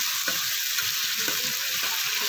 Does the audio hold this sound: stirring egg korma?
yes